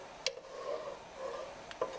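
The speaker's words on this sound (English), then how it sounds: "I'm going to stir the ginger around because the heat will extract the flavor of the ginger into the cream" Spoon stirring ginger through cream heating in a pot, soft quiet swishes with a few faint clicks against the pot's side.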